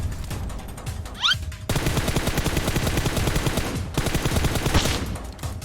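Rapid automatic gunfire in the video game PUBG Mobile rattles out in long, loud bursts. A brief pause splits the volleys before another stretch of sustained shooting.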